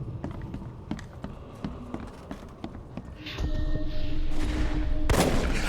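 Gunfire during an attack in the video game The Sinking City: a string of sharp cracking shots at irregular intervals, followed by a louder, dense stretch of combat noise.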